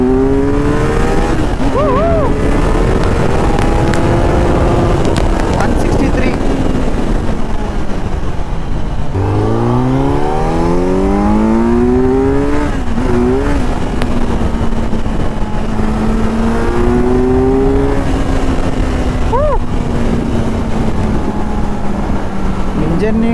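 Kawasaki Z900 inline-four motorcycle at an auto expo, engine revved repeatedly with rising and falling howls over a steady loud idle, with people talking nearby throughout.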